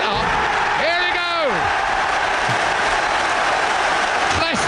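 A football crowd roars and cheers at Leicester City's 2015-16 Premier League trophy presentation, a loud, sustained wash of noise throughout with a couple of whistle-like swoops rising above it.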